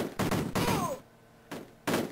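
Gunfire in the Amiga game Cannon Fodder: two loud bursts of rapid shots with a brief quiet gap between them, followed by a third burst that starts abruptly near the end.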